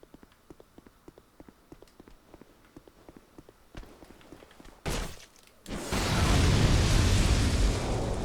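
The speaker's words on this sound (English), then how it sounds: "I mean, it's an explosion, fair, but..." An explosion goes off in Dark Souls 2 after a stretch of light, evenly paced footsteps: a sharp blast is followed by a pause, then a loud, sustained roaring burst that fills the rest of the moment.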